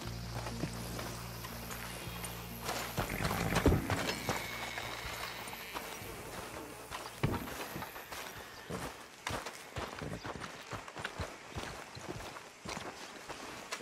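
Horse hooves clip-clopping at a walk in the Red Dead Redemption video game, a steady rhythm of hoofbeats that grows sharper and more distinct toward the end as the horse slows near a hitching spot.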